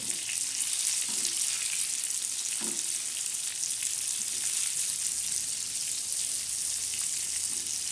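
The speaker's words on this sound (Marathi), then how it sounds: "खमंग असे छान असे आपले मच्छी तळत आहे" Fish frying in hot oil gives a steady, close, dense sizzle with crackling and a few brief soft knocks, and no one speaks.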